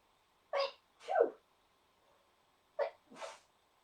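Two quick sneezes close together, then a pause and a second pair of sharp sneezes, fairly close and otherwise quiet.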